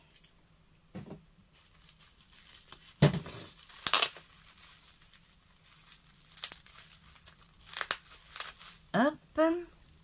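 Perfume parcel being unpacked, with crinkling and rustling packaging in short bursts scattered between quiet gaps, some louder crackles near the end, with a voice speaking briefly.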